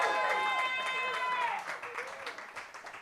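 Crowd at a live comedy gong show applauds and cheers, loud at first with whoops, then thinning into scattered claps and voices.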